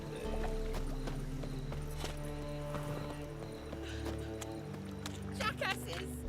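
Rhythmic clip-clop of horse hooves in The Witcher III: Wild Hunt, with a brief whinny and voices talking over the steady trotting.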